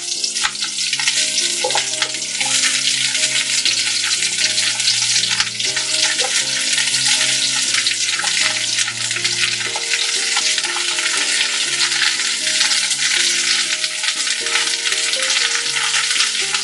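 Pirandai (adamant creeper) fries in a pan with dried red chillies for chutney, giving a loud, continuous hissing sizzle that stays steady throughout, close up, with faint stirring knocks and no talking.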